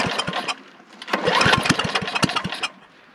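Antique Sears snow blower engine with a small muffler running loud and rough, a steady sputtering putter with irregular firing pops that swells louder midway, then eases off near the end, with no talking.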